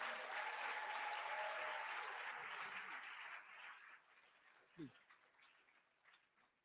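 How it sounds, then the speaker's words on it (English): Applause for newly qualified medical and dental practitioners at an induction ceremony, a broad hiss of many hands at moderate distance that thins out after about four seconds. "Can we all give them a big applause?"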